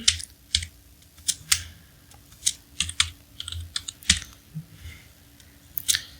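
Keys clack on a computer keyboard in uneven bursts of quick taps, close and clear, with short pauses between runs.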